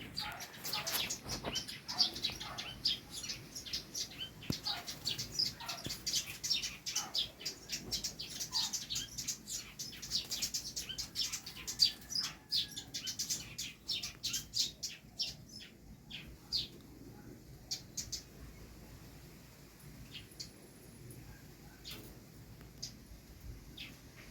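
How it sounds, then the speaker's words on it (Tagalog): Many small birds chirp and tweet in quick, overlapping bursts, fairly faint and distant, thinning out toward the end. "Ang ingay ng mga ibon."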